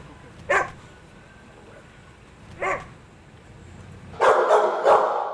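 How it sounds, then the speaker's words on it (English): A blue pit bull barks aggressively, two separate single barks a couple of seconds apart followed by a louder rapid cluster of barks, fairly close, with no talking. "This blue pit bull color type that's very popular. And he is a pretty aggressive dog."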